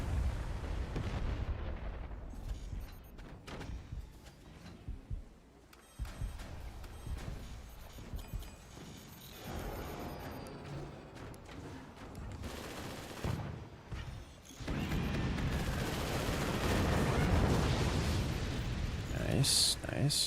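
Direct fire nuke weapons firing in the Forts RTS game, a long run of heavy booming shots and rumbling blasts over a steady battle din, with a caster talking throughout.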